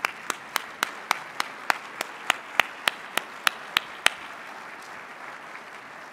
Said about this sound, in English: let's join them with a round of applause